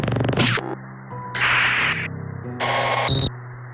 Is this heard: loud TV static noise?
yes